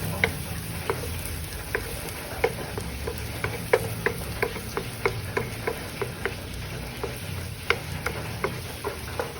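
Garlic and butter sizzle in a frying pan, a soft steady frying hiss broken by regular clicks and taps of stirring, close and fairly quiet with no talking.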